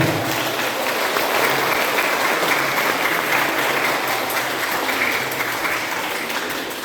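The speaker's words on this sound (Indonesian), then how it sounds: "Kita beri aplaus yang mulia." Sustained applause from a church congregation at an Easter Sunday Mass, a dense, even clapping that fills the space for several seconds before tapering slightly at the end.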